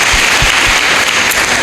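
Loud, close audience clapping at a devotional talk, a dense continuous patter of hands lasting under two seconds.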